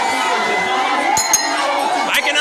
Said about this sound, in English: The crowd is swelling up.